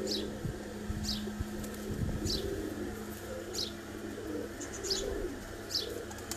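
Misse pigeons cooing on a rooftop loft in Kharian, soft low coos running steadily beneath repeated brief high chirps, close and fairly quiet with no talk.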